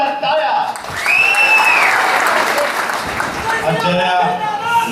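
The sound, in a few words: loud applause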